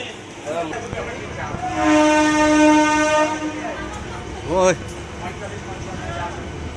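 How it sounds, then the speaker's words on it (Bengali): Passenger train departing from a station, its horn sounding a loud sustained blast in the middle and a shorter bending blast near the end, over rumbling wheels and carriage noise, with voices heard nearby. "আমাদের ট্রেন ছেড়ে দিয়েছে"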